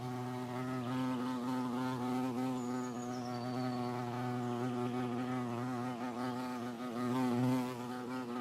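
A bee buzzes close by outdoors on a countryside walk near a house, a steady droning hum that wavers slightly in pitch and holds for several seconds.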